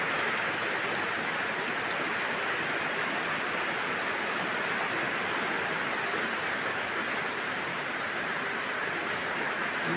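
Steady, dense rain pours down throughout a storm with wind, a continuous close hiss with no voices and no breaks.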